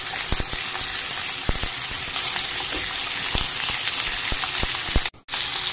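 Lamb chops fry in a hot pan with steady, close sizzling and spattering that keeps up evenly throughout, with scattered sharp pops and no talking.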